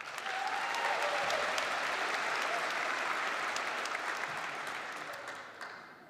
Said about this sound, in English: Let us applaud the formidable accomplishments of these master's candidates.